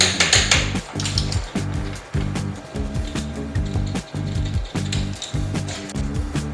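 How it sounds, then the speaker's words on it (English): Axle bolts on a Thumpstar TSF150 dirt bike being tightened with a torque wrench set to 40 Newton meters, heard as a close, steady series of rhythmic ratcheting strokes with metallic clicks. "We're going to set these to 40 Newton meters and torque that accordingly."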